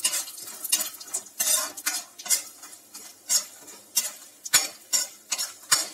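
Peanuts roasting in a pan with mustard seeds and curry leaves for kanda poha, a rapid rhythmic series of rattling spoon scrapes and clinks over a light sizzle, close and regular.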